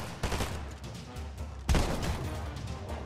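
Gunfire from a shooter video game, a loud, sustained crackle of shots with two sharp blasts, one early and a stronger one midway, over a steady background din.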